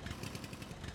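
A car engine runs steadily in the Jalopy driving game, an even mid-pitched drone with a faint pulsing rhythm that sounds slightly odd, heard alone with no talking.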